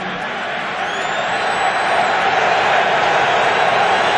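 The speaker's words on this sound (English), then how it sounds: "Third and 4 as Roosevelt Colvin tries to rally a sold-out Foxboro crowd." A sold-out stadium crowd at an American football game in Foxboro, New England, roars as a steady, dense wash of noise that swells slightly and holds throughout without a break.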